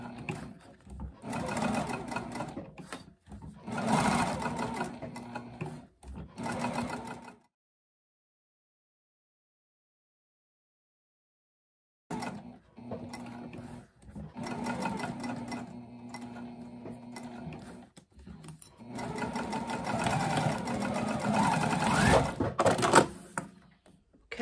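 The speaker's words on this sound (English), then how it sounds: "I'm going to sew up and around and back down." A sewing machine stitches a small snap pouch in bursts of rapid mechanical chatter, pausing for several seconds of silence before resuming in longer runs, close and moderately quiet.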